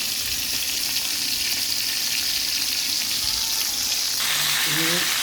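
Koi fish sautéing with spices in a pan gives a steady, loud frying sizzle throughout, with faint voice-like tones and a brief stirring scrape near the end.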